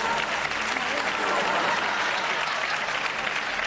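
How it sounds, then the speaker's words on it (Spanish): A studio audience on a Spanish television show applauds warmly for a mother, a dense, steady wash of many hands clapping at close range, continuous and loud with no talk over it. "voy a ser yo el que pida un aplauso para una madre que habla así de sus hijos"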